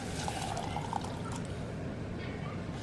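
Water pours into a pressure cooker holding rice and dal, a soft, steady trickling stream that runs unbroken for a few seconds at close range.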